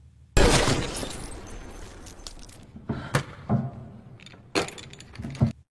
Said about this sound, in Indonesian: Dengan menembak berkali-kali di pusat yang sama, kaca tersebut pasti akan tembus juga.